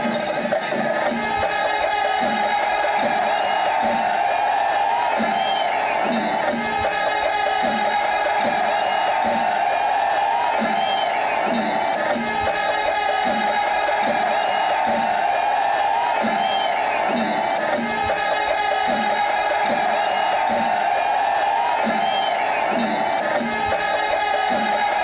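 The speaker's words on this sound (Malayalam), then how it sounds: "ആർപ്പുവിളികളോടെ ജനക്കൂട്ടവും പൂരത്തിന്റെ ആവേശം കൊടുമുടിയിലെത്തിച്ചു." Dense crowd roar with whoops and shouts during the Kudamattam umbrella-exchange ceremony at Thrissur Pooram festival, sustained and loud throughout with rhythmic percussive pulses underneath.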